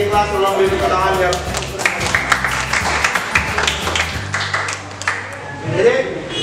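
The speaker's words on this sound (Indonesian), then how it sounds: "yang di kelas tolong beri tepuk tangan ya" A classroom of students applauds, many hands clapping in a lively, uneven patter with crowd murmur and voices mixed in, swelling again briefly at the end.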